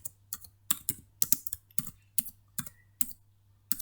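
Steady typing on a computer keyboard: a rapid, uneven run of close, crisp key presses over a low electrical hum, with no one speaking.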